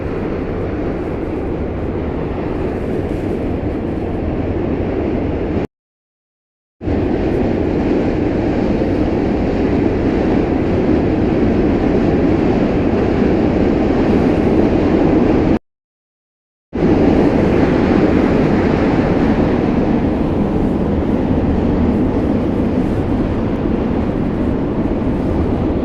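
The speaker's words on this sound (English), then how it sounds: "it will be a little noisy by the Manhattan Bridge because there's car traffic and trains running along it" Steady, loud rumbling roar of trains rolling across the Manhattan Bridge in New York City, with a constant wash of car traffic noise and two brief cuts to silence.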